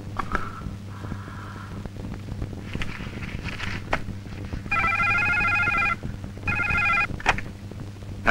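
A telephone rings in a movie scene for a fake call, two bursts of electronic trilling ring tone, preceded by softer tones and footsteps over a low background hum.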